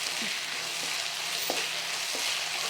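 Tomatoes with salt fry in a pan, giving a steady broadband sizzle with a few soft scraping stirs. There is no talking.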